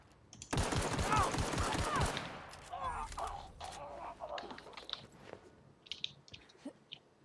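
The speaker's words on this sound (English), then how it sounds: "Hunting rifle." Hunting rifle gunfire in the video game The Outer Worlds opens with a loud burst of rapid shots, then trails into scattered quieter game sounds and clicks.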